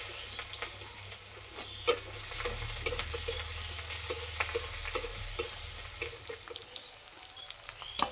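Onion and Bengali five-spice tempering hiss and sizzle in hot oil, a dense steady frying crackle broken by sharp pops and the scrape of a stirring spoon, close up and without talk.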